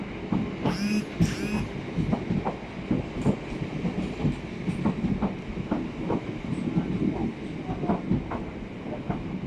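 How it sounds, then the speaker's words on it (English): A Southeastern passenger train to London Charing Cross rumbles past at Tunbridge Wells station, wheels clicking rhythmically over rail joints with a brief high squeal near the start, steady and fairly close. "Have the 1321 Southeastern Service to London Charing Cross."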